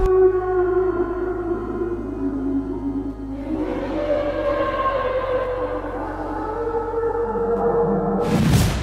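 The Bloop, a mysterious underwater sound recorded by NOAA in 1997, plays as a slow, droning low tone with rising harmonic layers that swell midway and keep going, then ends in a sharp burst of noise at the close.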